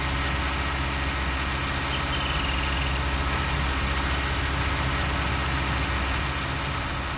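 Heavy tractor in Farming Simulator 19 for plowing fields, a deep steady engine drone idling and rumbling continuously and close, with no speech.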